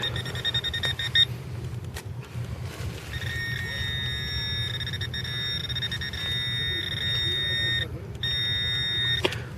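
A metal detector sounds a steady high-pitched electronic tone during an outdoor search beneath a step, holding for several seconds with brief breaks, over a constant low rumble of background noise.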